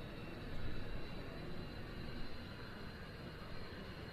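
An F-35 fighter jet arriving at the RIAT 2024 airshow, heard as a steady, broad engine roar at moderate distance with no talk.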